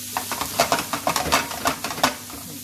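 Chopped onion frying in a pan, with a steady sizzle under repeated stirring scrapes and light clinks of a utensil against the pan, close and moderately loud.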